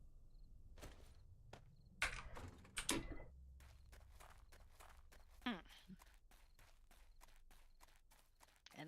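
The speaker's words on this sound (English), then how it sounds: "I hear somebody making rustly footsteps outside my" Footsteps shuffle and rustle outside a door in the survival game 7 Days to Die, with scattered soft steps, a couple of louder thumps and scrapes, all fairly quiet and close.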